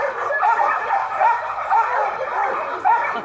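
Many dogs barking, yipping and whimpering together at a rescue shelter, a constant noisy chorus that stays loud and close throughout.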